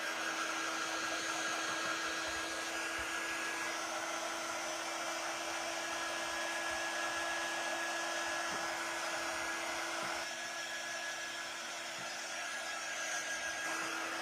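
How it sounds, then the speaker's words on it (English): A handheld craft heat tool blows warm air to dry paint on a pumpkin craft piece. It makes a steady, quiet electric whir with a constant hum that runs the whole time without pause. "This is a heat tool. It's not really hot, it's just got some hot air blowing"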